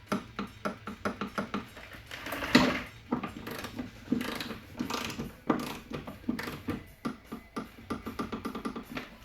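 Ratcheting torque wrench tightening the bottom sway bar bolts on a 1996-2000 Honda Civic during a 24mm sway bar install, giving a steady series of quick, close mechanical clicks in short bursts, no voices.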